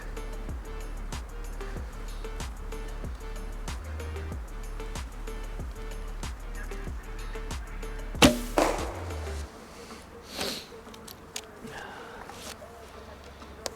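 A single sharp thwack of an arrow from a longbow striking a wooden stump, loud and close, breaking through a steady rhythmic outdoor hum, followed by fainter rustling.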